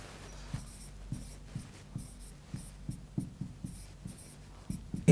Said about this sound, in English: Let's write down the reactions first.